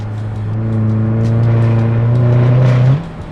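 Loud, deep rumble of a car engine idling close by with its exhaust valves open, giving a throaty exhaust drone, rising slightly in pitch before cutting off abruptly.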